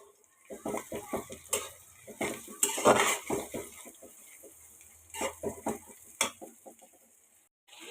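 Onion and green chilies frying in a pan for a beef and chana dal dish, with a utensil clattering and scraping against the pan in rhythmic stirring strokes over a faint sizzle, close and moderately loud.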